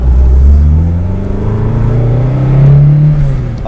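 Toyota AE86 with a fully built 4AGE engine accelerating, a loud, close engine note climbing steadily in pitch through the revs with a brief dip midway before pulling hard again.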